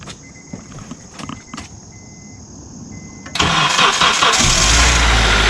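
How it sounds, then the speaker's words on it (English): Car engine catches and starts after a battery jump on a hard-to-start car, a sudden loud broadband roar from mid-clip that settles into a steady, revving run after faint cranking-like clicks. "Never had this much of a difficult time starting a car."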